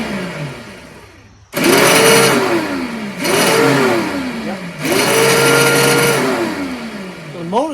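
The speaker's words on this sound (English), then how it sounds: "The motor's just spinning" A Briggs 524 engine's electric starter motor on a Toro CCR2450 single-stage snowblower whirs up in three separate bursts, each spinning freely and winding down, loud and close with short gaps between.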